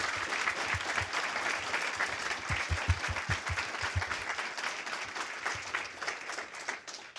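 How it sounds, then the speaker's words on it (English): Sustained audience applause following a high school debate on drug addiction, dense and steady for the full stretch with no talking over it. "Ladies and gentlemen, please give them another round of applause."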